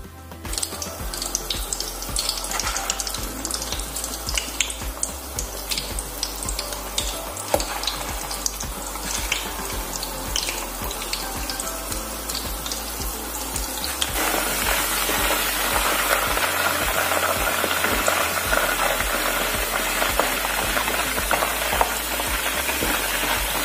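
Meatballs fry in hot oil, a dense steady sizzle and crackle that grows louder and fuller partway through, with no talking.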